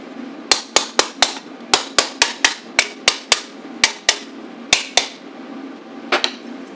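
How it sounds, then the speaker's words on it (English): Hammer blows strike the welds on a stainless steel snorkel for a Nissan Xterra, about eighteen sharp, ringing metallic hits in a steady rhythm, close and loud, with a brief gap near the end. "you can hear the difference when you hear one of the welds break."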